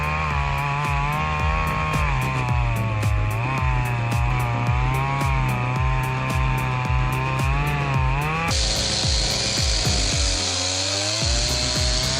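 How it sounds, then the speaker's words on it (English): A large chainsaw cuts through the tangled roots and heavy trunk of an uprooted tree, running loud and continuous with a repeating pulsing rhythm, its engine pitch shifting near the end as the cut changes. "This chainsaw makes quick work of the tangled roots and heavy trunk,"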